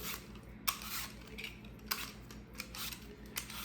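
Apples being peeled by hand for an apple tart, with soft repeated scraping strokes and small clicks of the blade at an irregular rhythm, close and fairly quiet.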